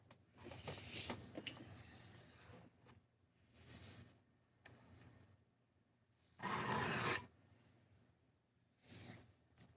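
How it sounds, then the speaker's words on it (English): A knife being hand sharpened, heard as several separate rasping strokes of varying length and loudness with quiet gaps between them, close and without talk. "Let's see if I can hand sharpen this thing."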